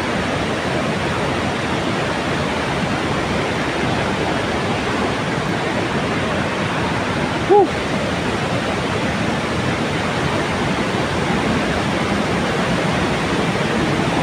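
Floodwater rushes over Old Wawa Dam in Montalban, Rizal during a typhoon, a loud, constant roar of churning water with one brief click partway through.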